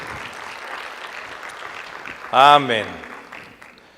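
A church congregation claps steadily in the background while one voice calls out loudly in Spanish for a moment over the applause.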